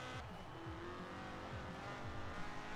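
Engine of a 1974 Toyota Corolla SR5 drifting in the Forza Horizon 4 racing game, a steady revving drone with repeated rising gear-pitch sweeps and faint tire noise, continuous throughout.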